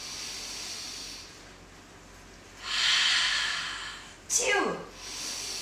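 Deep breathing during an upper-body workout, a long airy breath through the mouth and then a forceful, falling exhale, both close and loud over a faint background hum.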